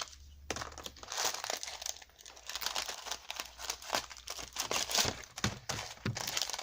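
Crinkly plastic packaging around satin ribbon being opened by hand. Quiet, irregular crackles and rustles come in bursts over several seconds, with no talking.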